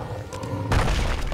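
A sudden explosion-like burst in the platform video game Super Meat Boy hits partway through and spreads into a broad, loud rumbling wash that lingers to the end, with no talk over it.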